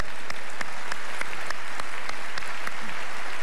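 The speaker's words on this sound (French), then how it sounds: "on l'applaudit pour son beau travail" An audience at a Quebec comedy gala applauds steadily, a broad continuous wash of clapping with a few sharper individual claps standing out.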